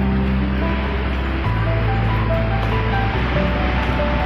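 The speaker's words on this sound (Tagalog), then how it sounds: "Dinig na nila ang alon." Ocean surf at a beach in Kaohsiung, Taiwan, heard as a continuous loud roar with a strong low rumble, likely blended with wind noise, and no clear voices.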